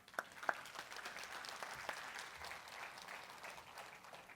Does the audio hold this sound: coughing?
no